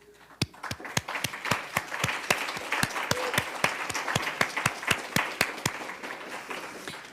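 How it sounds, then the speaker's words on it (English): An audience at a public library writing-program event claps in a steady, fairly sparse rhythm. The individual sharp claps stand out clearly against a light background wash, and the applause holds its level until it tapers slightly at the end. "I think we owe Chris a round of applause."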